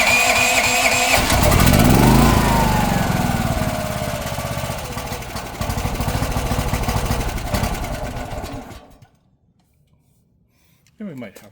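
A portable generator engine cranks and catches, then runs loud and rough for about nine seconds before cutting out into near silence, with a brief knock at the end.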